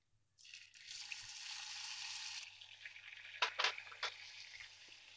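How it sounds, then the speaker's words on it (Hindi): Garlic ginger paste hits hot oil with cumin and mustard seeds, bursting into a loud, steady sizzle that fades slightly before a few sharp crackling pops near the end. "इसमें हम ये लहसुन अदरक का पेस्ट डाल देंगे"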